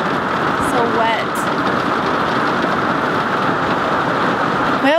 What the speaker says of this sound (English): That's the hail coming down.